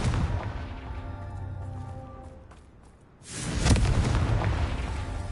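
A Confringo fire spell from Hogwarts Legacy blasts into a loud explosive burst after a lull, with a rumbling, roaring tail that lingers for a couple of seconds.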